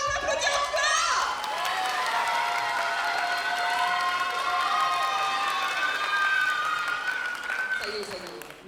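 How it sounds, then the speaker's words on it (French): Audience applause at a cosplay contest during a fan manga convention, a dense, loud wash of clapping with some cheering that holds steady throughout and tapers at the very end. "Incroyable, on applaudit encore."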